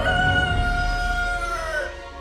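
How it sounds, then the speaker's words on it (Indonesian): A single rooster crows a long, drawn-out cock-a-doodle-doo from a distance, standing alone as a sound effect in a children's Bible story and fading away at the end. "suara kokok ayam jantan di kejauhan"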